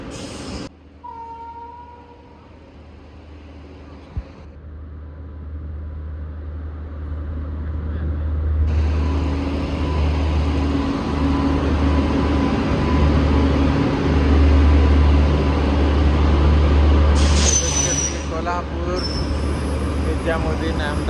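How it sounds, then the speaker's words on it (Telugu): A train hauled by a WAG9 HC electric locomotive pulls into a railway station, its low rumble swelling steadily and staying loud, with tonal horn-like sounds near the end. "ఏదో ట్రైన్ వస్తుంది."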